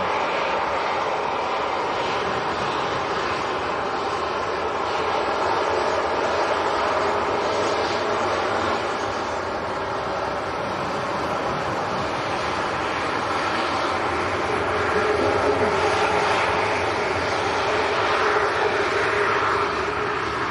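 A jet aircraft taxiing at Leeds Bradford Airport, a steady loud engine roar and whine that holds for the whole stretch, close by and uninterrupted.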